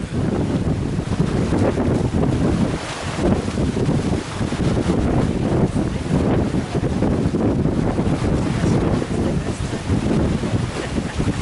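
A small, heavily loaded boat pounds through rough, whitecapped water in 50 to 60 km/h winds, with constant loud splashing and heavy wind buffeting the microphone, continuous and close.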